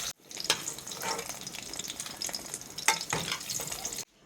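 Sesbania flowers (bokphul) frying in hot oil, with a steady crackling sizzle throughout and a few sharper spits and stirring clinks near and fairly loud, ending abruptly.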